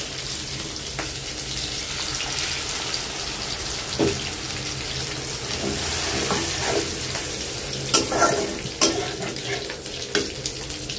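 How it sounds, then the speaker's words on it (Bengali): Water goes into a pan of sizzling spices for a coral fish curry, with a gushing pour and a hissing rush over the frying, plus a few sharp clinks and stirs near the end. "পানি দিয়ে দিই।"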